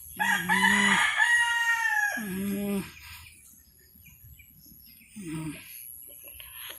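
A Rhode Island mix rooster crows loudly and close, two long full crows followed by a shorter third call, with softer clucking noises in the pauses between.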